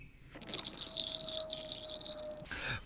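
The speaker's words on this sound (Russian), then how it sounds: "нашу смесь переливаем в емкость с водой, с холодной." A brine mixture of salt, sugar and 9% vinegar pours into a container of cold water, a short close splash and gurgling stream lasting about two seconds before stopping.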